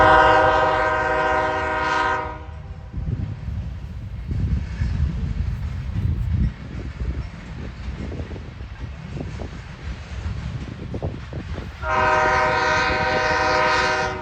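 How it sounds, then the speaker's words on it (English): CSX 5230 leads an eastbound manifest freight past the Iron Triangle railpark in Fostoria, Ohio, its loud horn blaring at the start and again near the end, with rumbling wheels and car clatter rolling steadily in between. "CSX 5230 would lead this eastbound manifest and conclude all of CSX's trains today."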